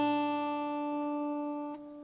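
A single plucked guitar string, the high E tuned down to D for DADGAD tuning, rings out steadily and slowly fades, with a faint tap near the end; quiet and close, no talking.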